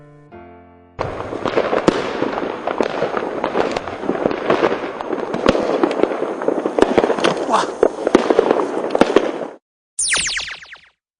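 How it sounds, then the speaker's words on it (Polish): New Year fireworks and firecrackers in Radom, Poland, crackle in a dense, continuous barrage of sharp bangs and pops, loud and close, before a brief gap and a final burst. "podziwiając wspaniałe pokazy pirotechniczne"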